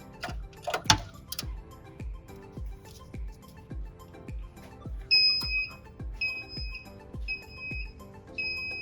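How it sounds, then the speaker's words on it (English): Rhythmic low thumps tick steadily throughout, joined midway by a repeating high electronic alarm beep in short regular bursts, a ship's bridge alarm triggered by removing a fuse. "and then you will hear an alarm"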